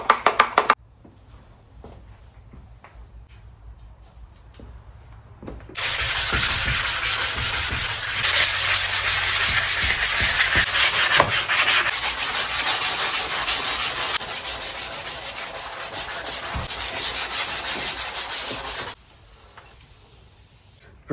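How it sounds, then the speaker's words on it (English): A 400 grit sanding block rubs wet against a Jeep TJ rocker guard, a loud, steady scrubbing hiss that starts after a quiet pause, runs for about thirteen seconds up close, then stops. "I prefer to use a sanding block over sanding paper for this sort of stuff."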